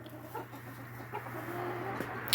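Silkie chickens in a backyard coop make a few soft, faint clucks over a low steady hum, quiet and scattered across a couple of seconds.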